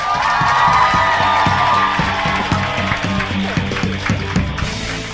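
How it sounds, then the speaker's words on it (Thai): Audience at a Thai seminar event clapping and cheering, a dense burst of applause with whoops and crowd noise, loud and sustained, with a voice over a speaker system at the start. "ให้ขอเสียงปรบมือดังนะครับให้คุณจอยทาริทิพย์ชัยการจนกิจครับ"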